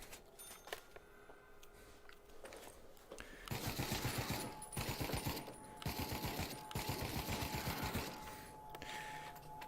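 Rapid automatic gunfire in the VR shooter Pavlov VR while hunting zombies: quiet scattered clicks, then long, fast, rattling bursts of fire separated by short gaps, with no talking.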